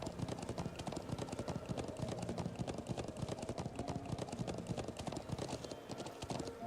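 Horse hooves clip-clop in the video game Trails of Cold Steel, a quick, steady trotting rhythm that runs unbroken and sits faint and soft in the background.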